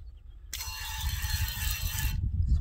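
A hissing, rattling mechanical burst lasts about a second and a half, then cuts off, over low rumbling handling noise, from pumping up a Lunatec water misting bottle.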